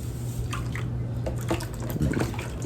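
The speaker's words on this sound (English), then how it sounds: "Dipping and straightening and rinsing. Wring that out just a little bit." Hair extensions being dipped, straightened and rinsed in a bucket of water, giving steady sloshing and dripping with small splashes throughout, close and continuous with no talk.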